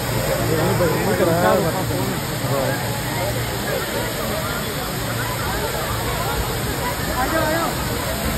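Dudhsagar waterfall in Goa roars as a loud, steady rush of falling water throughout, with voices and crowd chatter faintly mixed in.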